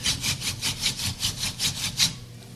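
A wooden spindle spun by hand against a fireboard for a hand drill friction fire makes steady, rhythmic rasping strokes, roughly five per second, close and fairly loud with no talk.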